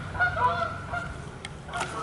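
Geese honk in a few nasal calls at a moderate distance, over a low background rumble.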